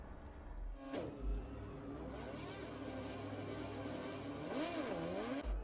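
Moto2 motorcycle engines idling and revving on the starting grid of the Austrian Grand Prix in the video game MotoGP 17, a continuous engine drone with a few rising and falling revs.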